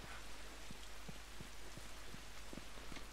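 Rain from a thunderstorm in The Last of Us, falling as a constant low hiss with irregular drips tapping nearby, quiet and unbroken, with no talking.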